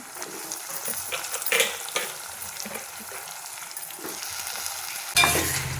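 Brinjal and tomato fry and sizzle in a pan while a spoon stirs them in close, scraping strokes, followed by a louder burst of sizzling near the end.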